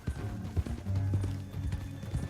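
Horse hooves clop in short, uneven bursts in the Red Dead Redemption 2 video game, close and fairly soft over a low rumble, with a faint whinny-like sound mixed in.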